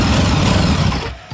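Ducati DesertX motorcycle engine running just after starting from a repaired fault, a loud close rumble that cuts off abruptly after about one second, followed by a faint thump.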